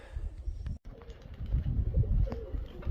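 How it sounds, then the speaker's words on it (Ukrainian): Pigeons coo close by outdoors, their low soft calls repeating over a rustling background, with one brief dropout partway through. "голубы."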